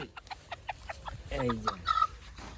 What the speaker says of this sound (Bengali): এইটা হচ্ছে দেশি মোরগ